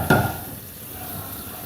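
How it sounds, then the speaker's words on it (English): Garlic and pepperoncini sizzle steadily in a hot pan after a brief clink of a utensil at the start, a close, even frying hiss with no talking. "It's sizzling along there with the pepperoncini in there."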